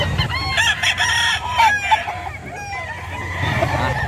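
Roosters crow repeatedly amid clucking chickens at a livestock market in San Carlos City, Pangasinan, a busy chorus with several birds calling over one another at close range.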